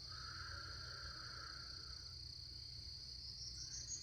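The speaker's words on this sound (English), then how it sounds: "I'm hoping you can hear some of the sounds of nature here with us today. Frogs and birds and cicadas." Outdoor nature ambience with steady high insect trilling, a lower chirring call that fades midway, and a constant low croaking hum of frogs, all faint and continuous with no talking.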